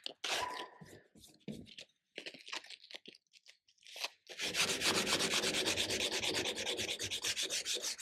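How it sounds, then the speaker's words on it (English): Steady, rapid back-and-forth scraping of 120-grit sandpaper wrapped on a stick against a steel knife blade, loud and close, following a few seconds of softer intermittent rubbing and pauses. "So we're sanding with 120 until we see all of the production marks gone"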